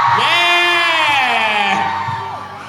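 A crowd of children at a concert and autograph-signing event in Hong Kong lets out a loud, sustained cheer. Excited voices whoop together for over two seconds before fading slightly.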